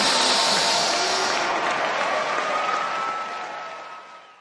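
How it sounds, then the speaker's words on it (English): Audience applause at a comedy roast, a broad wash of clapping that starts loud and full, then gradually thins and fades away toward the end. "He's clapping for that one."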